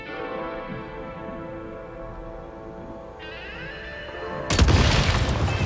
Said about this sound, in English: Shoot the explosives to detonate them and clear the path.